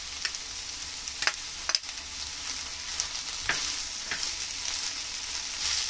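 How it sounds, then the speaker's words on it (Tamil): Schezwan chicken egg fried rice sizzles in a pan while being stirred, with a soft steady frying hiss and a few sharp scrapes and clinks of the spatula against the metal. "கொஞ்சம் நல்லா கலந்துட்டு இதோட நம்ம பொறிச்சு வச்ச முட்டையும் சேர்த்துக்கலாம்"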